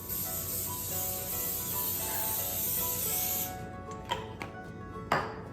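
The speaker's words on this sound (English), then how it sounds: "now we are just spraying our pan with some cooking spray" Cooking spray hisses continuously onto a 9x13 metal baking pan for a few seconds, then stops, followed by a few light taps and clinks of the pan.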